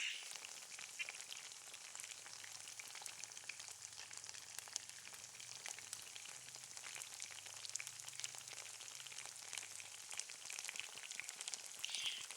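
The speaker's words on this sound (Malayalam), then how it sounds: "ഇതാ ചിക്കൻ പൊരിച്ചെടുക്കുകയാണ്. നല്ല വെളിച്ചെണ്ണയിലാണ് കേട്ടോ പൊരിച്ചെടുക്കുന്നത്" Chicken frying in coconut oil fills the scene with a steady, dense sizzle and crackle that holds at an even level throughout, with no voices.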